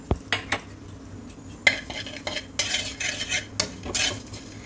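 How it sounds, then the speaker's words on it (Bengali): A spoon stirring whole coriander, cumin, fennel, green cardamom, cinnamon and cloves being dry roasted in a pan, with sharp metallic scrapes and clinks in irregular bursts over a faint background hum. "এইভাবে নেড়ে নেড়ে একটু ড্রাই রোস্ট করে নেব"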